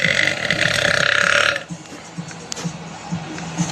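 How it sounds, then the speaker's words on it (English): A loud, drawn-out belch lasting about a second and a half opens the moment, voiced and rattling, recorded on a TikTok live stream, followed by quiet room noise and faint murmuring. "I just belched"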